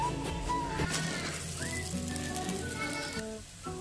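Litti sizzling in oil inside a pressure cooker, a steady crackling fry with soft bubbling that holds at an even level throughout.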